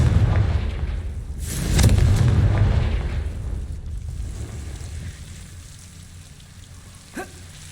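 A Confringo fire spell explodes in the Hogwarts Legacy video game, a loud whooshing boom swelling then fading into a rumbling tail, followed by a quieter ambient wash and a small sharp crack near the end.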